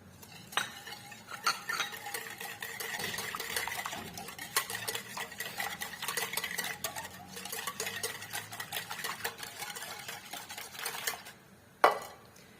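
Spoon or whisk stirring sugar and yeast in a bowl for brioche dough, a steady run of soft scraping and light clinking against the bowl, close and alone, ending with a sharper knock.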